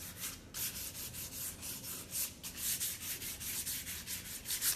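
Hand sanding with 220 grit sandpaper over the edges of painted kitchen cabinets makes soft, rhythmic scratchy rubbing strokes, close by and fairly quiet, with no voices.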